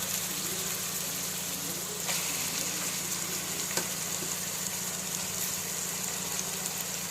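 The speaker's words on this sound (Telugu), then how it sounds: "మటన్ మంచిగా కలిసేటట్టు తిప్పండి." Mutton sizzles in a pan and is stirred, alongside ginger-garlic paste, with a steady close frying hiss and a low background hum. A few faint scrapes of the stirring spoon break through.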